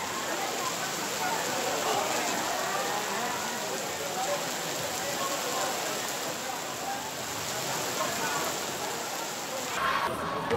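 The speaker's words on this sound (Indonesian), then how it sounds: "Kalau misalnya kita nyelenggarain acara kayak gini di musim hujan terus di outdoor tuh pasti hujan" Rain falls outdoors in a dense, steady hiss of drops that stays even and fairly loud throughout, a continuous wash with no distinct pauses.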